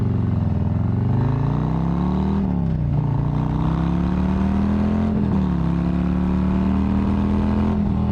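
A Harley-Davidson Street Glide ST touring motorcycle accelerates hard. The loud, continuous engine drone rises in pitch through the gears, with brief dips between shifts, and it sounds close and steady throughout.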